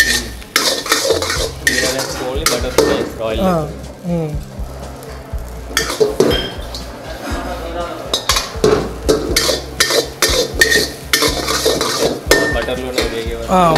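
Rice stirred and fried in butter in a pan at a Warangal hotel kitchen, a busy clatter of spoon and utensils scraping metal with a steady sizzle, close and loud, over dense kitchen bustle and background chatter.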